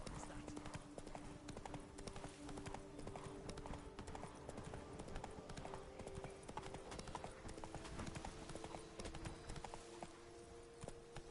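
In The Witcher 3, the horse Roach gallops with rapid, steady hoofbeats clip-clopping at a quiet level, accompanied by faint game ambience.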